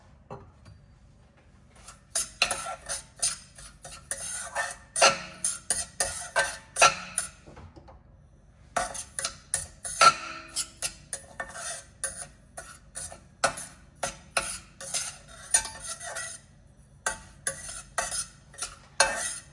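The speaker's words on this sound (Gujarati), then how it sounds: "મીડિયમ ગેસની ફ્લેમ પર આપણે સોજીને 5 મિનિટ માટે રોસ્ટ કરી લઈશું." A spoon stirring semolina as it roasts in a pan over a medium gas flame: rapid, rhythmic scraping and clinking against the pan in quick bursts, with a short pause before the stirring resumes, close and clear.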